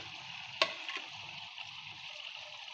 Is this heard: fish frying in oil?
yes